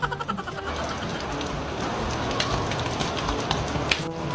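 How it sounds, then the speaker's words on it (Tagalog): Steady rain falls outdoors, a dense, even hiss of drops pattering on surfaces, fairly soft and continuous throughout with no voices. "si Mateo naliligo ng ulan."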